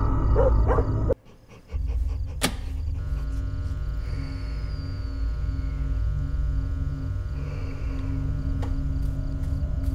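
A dog barks and yips indoors at a house, short sharp calls popping out over a constant low electrical hum, with one loud bark standing out early and quieter whimpers afterward.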